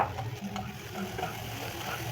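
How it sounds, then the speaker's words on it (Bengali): Chopped onion, tomato and green chilli stirred in a hot pan give a quiet sizzle with soft scraping stir strokes over a brief stretch. "এবার 1 মিনিট একটু নাড়াচাড়া করে নিচ্ছি"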